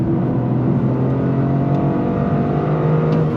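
A 2025 Toyota GR Corolla AWD hatchback accelerates under full throttle, its engine droning loud and steady from inside the cabin with a rising tonal whine and no voices.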